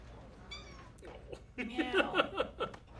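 Kittens in a TV episode give several small, high meows, first a single cry and then a lively cluster of overlapping mews near the end.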